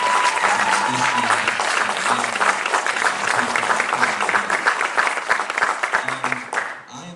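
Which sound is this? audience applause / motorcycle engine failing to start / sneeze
audience applause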